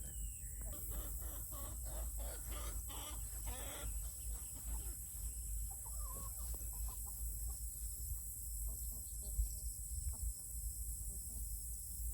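A homestead chicken clucking in short bursts close by, over a steady outdoor hum and insect chirring with a high constant tone, no talking.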